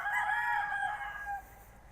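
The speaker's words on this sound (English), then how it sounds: "Hearing the roosters." A rooster crows once in a long, wavering call that trails off, heard from some distance in a quiet setting.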